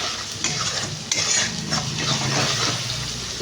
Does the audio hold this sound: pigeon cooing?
no